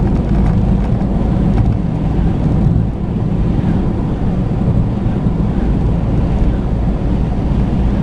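Car cruising on an open road outside town at 90 km/h in fifth gear, a steady loud interior drone of engine and road noise with wind rush throughout, no voices.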